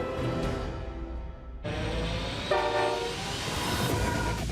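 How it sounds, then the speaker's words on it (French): Giant road-train-sized freight train in the Australian Outback, a loud rumbling pass with a blaring multi-tone horn sounding partway through, steady low engine drone throughout, heard up close without talk. "Certains des plus grands trains au monde"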